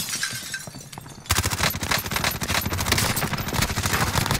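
Automatic gunfire in a multiplayer shooter video game starts abruptly after a quieter moment and continues as dense, rapid bursts of loud shots for several seconds.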